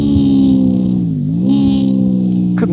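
Onboard a 1999 Honda VFR V4 on a Nürburgring Nordschleife lap, the engine holds a loud continuous harmonic drone, dropping in pitch briefly then climbing again as revs rise, with a short mechanical rattle near the end.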